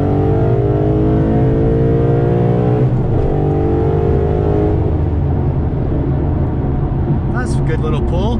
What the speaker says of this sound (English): So let's do a little third gear pull.